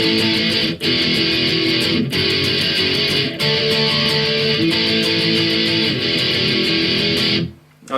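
Distorted electric guitar chugs through the bridge of a song, steady palm-muted power chords with short gaps at each chord change, loud and close, ending abruptly.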